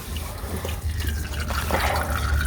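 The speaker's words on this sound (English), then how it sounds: "I can take it off and we'll let it drip" Engine oil drips and trickles steadily from a removed oil filter on a Ford Class C RV into a pan, close by, against a constant wash of background noise.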